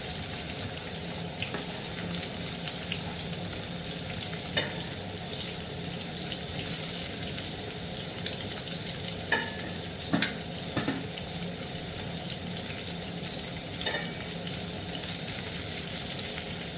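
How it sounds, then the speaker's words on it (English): Pork pieces browning in a frying pan for a few minutes, a steady low sizzle and fry hiss running throughout with a few faint clinks and taps near the middle, no talking. "getting our pork on for about 5 minutes to brown them a bit"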